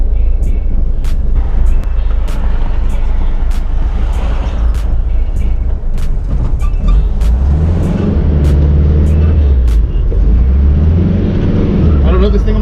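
A 1961 Volkswagen with a manual transmission drives along, its engine revving and shifting through gears with a loud, rough drone, and a voice talking over it.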